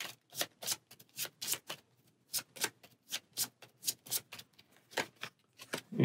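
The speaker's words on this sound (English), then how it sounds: "All right, we're drawing 2 cards" Cards being drawn and shuffled during a solo game of the Nemesis board game: a steady run of crisp, close papery flicks and snaps, roughly two dozen in quick rhythmic bursts, with no talk.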